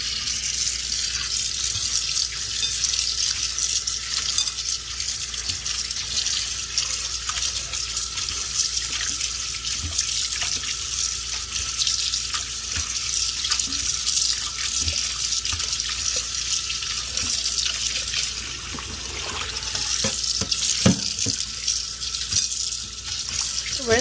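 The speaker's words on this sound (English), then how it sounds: "I'm gonna rinse it with water." Water runs steadily from a tap for a long stretch, with splashing and occasional knocks as roots are rinsed underneath it.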